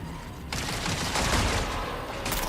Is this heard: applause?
no